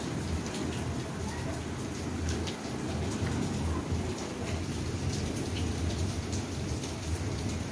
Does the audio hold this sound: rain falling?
yes